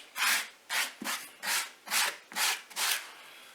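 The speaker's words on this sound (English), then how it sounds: "I use the old cork block with some old sandpaper." Old sandpaper on a cork block rubbed along the edges of model railroad cork road bed, seven rhythmic, raspy strokes in a steady back-and-forth pattern, close and clear with no voices.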